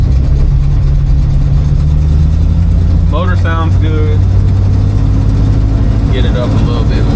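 A 1971 Oldsmobile Cutlass engine running loudly and steadily on a test drive, a low constant drone close by with someone speaking briefly over it.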